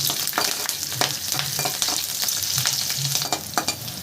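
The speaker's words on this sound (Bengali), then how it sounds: "রসুন আর কাঁচা লঙ্কা এগুলোকে সব আমি একটু হালকা করে ভাজা ভাজা করে নেব" Chopped garlic and green chilies fry lightly in a pan for a lau pata chingri bata dish, a loud continuous sizzle broken by repeated scraping strokes of stirring, with no talking.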